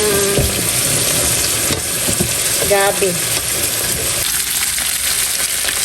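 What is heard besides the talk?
fish frying in a pan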